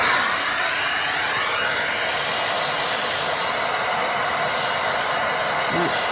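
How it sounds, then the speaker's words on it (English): A heat gun set to high heat and high fan blows over a resin Dutch pour, producing a loud, close, steady roaring hiss that continues without a break. "I'm going to use my heat gun on high heat and high fan"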